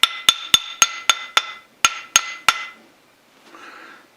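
A brass drift struck with a hammer while removing a part from a South Bend toolpost grinder: nine sharp, ringing metallic taps in quick, fairly even succession, close and loud, followed by a faint rustle.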